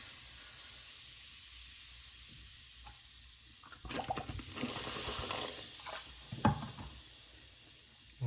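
Vinegar pours and splashes into a sink drain with a fizzing, hissing gurgle, starting partway through after quiet room noise and swelling briefly near the end.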